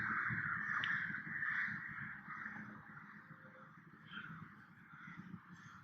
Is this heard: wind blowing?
no